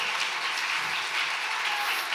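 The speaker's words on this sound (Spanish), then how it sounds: "Fuerte las palmas." A small group claps together in a classroom-style gathering, a steady continuous patter of hand claps lasting a couple of seconds, fairly close and without talk.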